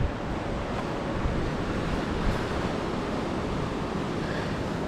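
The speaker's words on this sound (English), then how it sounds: "we're standing on the bridge over the Nenana River, and it's a glacier melt river" Glacial meltwater of the Nenana River rushing beneath a bridge, a steady, dense roar of flowing water with wind buffeting the microphone and no voices.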